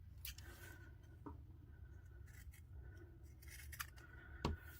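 Scissors cutting through a T-shirt, a few quiet crisp snips and fabric rustles spread irregularly at close range, with no talking.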